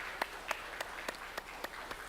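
Church congregation giving a round of applause in encouragement, a soft steady patter of many hands with a few sharper claps standing out at regular intervals, fairly distant.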